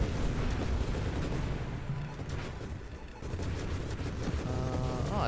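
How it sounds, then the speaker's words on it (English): In the arcade space shooter Nova Drift, a steady stream of blasts and booming explosions rolls on loudly and densely, with a brief dip midway. A rising electronic chirping effect comes in near the end. "Screen is in a constant state of explosions."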